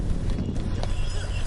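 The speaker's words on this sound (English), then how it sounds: "the single round of race for all running horses started" Horses running in a rural race, with a dense, continuous clatter of hooves over a steady low rumble, loud and sustained throughout, with no talk.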